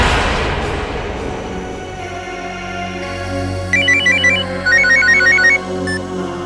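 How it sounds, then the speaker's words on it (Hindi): A telephone ringtone rings for an incoming call in a Hindi courtroom crime drama, a repeated electronic melody of bright beeping phrases rising clearly over a low, sustained dramatic music bed. "फिर उसे आमना का फोन आया।"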